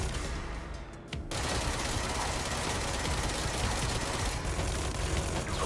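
Sustained rapid gunfire from the service weapon in the video game Control, a dense, loud continuous barrage that briefly dips near the start, then roars on steadily throughout.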